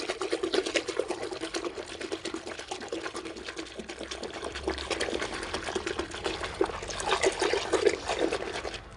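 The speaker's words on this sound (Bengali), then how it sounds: "সাবানগুলো দিয়ে ফেলেছি এর মধ্যে, তো চলো একটু গুলে নিই।" Soapy laundry water being swished and stirred by hand in a tub, a steady close sloshing and trickling with no talk.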